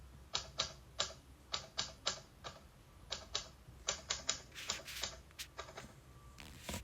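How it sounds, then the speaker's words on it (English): Typewriter keys clacking in a lighthouse adventure video game, struck by a gust of wind: a quick, uneven run of crisp mechanical taps, close and clear over a faint hum, with no voices. "And then it blows over the typewriter keys."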